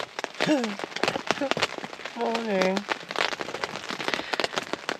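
Rain patters steadily on a tent while wild camping by a Scottish loch in the Trossachs, a dense close crackle running throughout, with a voice speaking briefly over it.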